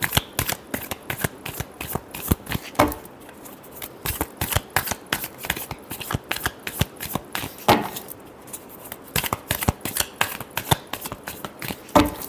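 Tarot cards are shuffled close up in a steady run of crisp riffling slaps and flutters that go on almost without a break.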